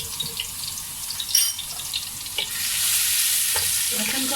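Garlic hits hot oil in a wok over full heat for Chinese chicken fried rice, clinks and stirring scrapes first, then a steady loud sizzle that swells and holds, close up with no talk.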